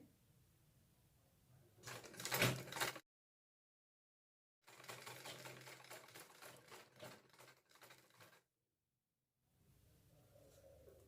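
A sewing machine stitches fabric for a kurti collar in bursts, with a short loud run, a pause, then a longer rattling stretch with small breaks, ending in quieter whirring. No one speaks.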